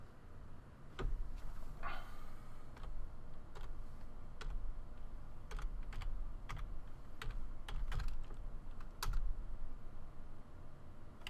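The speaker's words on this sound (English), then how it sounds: "So I type it on the screen." Someone types a password on a computer keyboard, producing a long run of close, irregular key clicks with small pauses, steady and fairly quiet with no talking.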